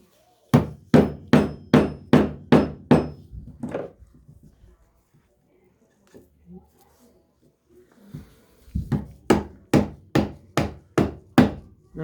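Hand chiseling of wood with a mallet while building a patio table: two runs of sharp, evenly spaced mallet strikes sound close and loud, with a quiet pause between them holding faint shuffling.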